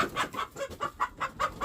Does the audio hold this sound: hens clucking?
yes